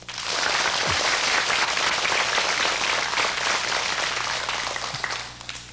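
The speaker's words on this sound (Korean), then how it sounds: "주장원이 된 갈마의 장지혁 어린이에게 여러분 축하의 박수 보내주십시오" A studio audience at a children's quiz show gives steady, full applause in congratulation of a young winner, a dense wash of clapping that holds for several seconds and then begins to fade.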